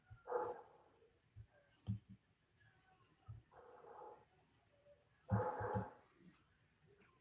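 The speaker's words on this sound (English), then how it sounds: "The neighbor's dog is barking." A neighbor's dog barking at a distance, with several short, faint bark bursts spread irregularly across a quiet background.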